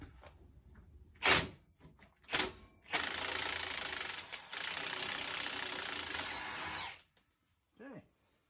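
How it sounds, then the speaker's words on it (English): Mechanical work on a truck during a lift kit install, loosening a U-bolt with bursts of a power tool whirring against the nut, several short hits and then a long steady run before stopping. "We're gonna try and pull off the U-bolt on the other side."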